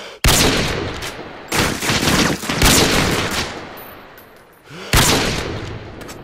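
Rapid bursts of gunfire in the video game Modern Warfare 2, loud and close, coming in several dense volleys separated by brief gaps with no talk.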